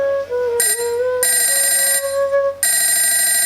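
A phone rings in repeated electronic bursts with short pauses between them, loud and close, with no one speaking.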